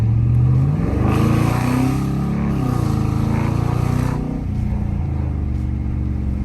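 A 2017 Dodge Challenger with its muffler deleted and straight-piped exhaust, not in sport mode, rumbles loudly up close, then revs up and drops back, its deep roar rising and settling twice before returning to a throaty idle.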